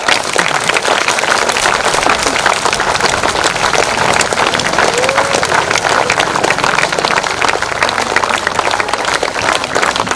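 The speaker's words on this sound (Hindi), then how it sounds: "कृपया तालियां बनी रहे, आप तालियों में कंजूसी मत करें" Dense, sustained applause from a large crowd at a district political gathering, loud and continuous throughout with no pauses, many hands clapping together.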